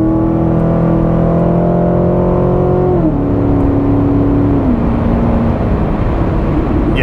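A 2017 Corvette C7 Grand Sport with a 6.2 liter V8 accelerates hard, its loud, steady engine roar climbing in pitch and then dropping as it shifts up, heard close over a constant rushing noise.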